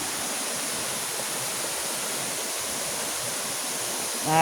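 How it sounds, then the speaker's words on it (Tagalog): Tagkuriring Falls in Barangay Simpukan pours in a continuous, dense roar of falling water, steady and enveloping with no pauses, heard alone without voices. "Sa Tagkuriring Falls dito po sa Barangay Simpukan."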